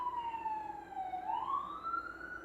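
A wailing ambulance siren sweeps steadily up and down as it passes at moderate distance, its tone bending in pitch midway, with faint road rumble beneath and no talk.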